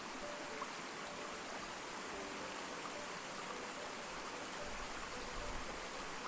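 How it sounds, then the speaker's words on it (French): A waterfall pours steadily, its falling water making a dense, even rush that fills the whole clip at a moderate, unchanging level with no voices. "Chaque pas vous rapproche du cœur de la cascade, où l'eau tombe avec une force douce mais inébranlable"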